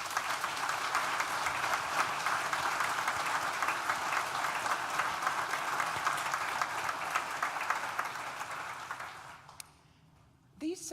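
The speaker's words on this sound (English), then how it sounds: "So please join me in a very well-deserved round of applause." A graduation ceremony audience applauds loudly and continuously, dense clapping filling the hall for around nine seconds before fading out.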